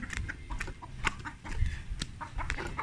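Chickens clucking and peeping close by in a rural yard, a steady run of short calls and chirps scattered through the whole stretch with no talk over them.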